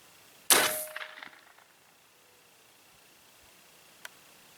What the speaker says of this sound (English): Let's go ahead and fire our first round here.